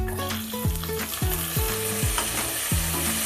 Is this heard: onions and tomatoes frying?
yes